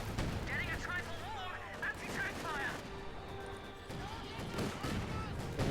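Mortar fire in the Company of Heroes 2 strategy game thumps and crackles in scattered bursts amid other battle gunfire, mixed under steady game ambience.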